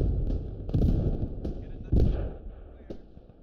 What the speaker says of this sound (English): Some sort of grenade.